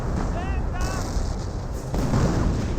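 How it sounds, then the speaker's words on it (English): A creeping artillery barrage in the Company of Heroes strategy game, a continuous rumbling roar of shellfire with dense low booms rolling together, loud and sustained, with a voice briefly audible within the din. "Looks like got more of the creeping barrage running on in."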